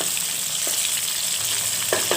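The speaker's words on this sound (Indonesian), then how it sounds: "Jadi kita goreng hingga benar-benar kering" Dried anchovies (teri) fry in hot oil until crisp, giving a steady loud sizzle with a faint stirring clink or two, close up and with no voices.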